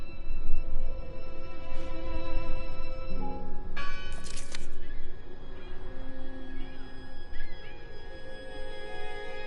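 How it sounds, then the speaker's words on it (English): A church bell rings in the horror adventure game Draugen, its tones sounding out amid the game's dense ambient sound, with a brief brighter burst in the middle. "Listen! The bell!"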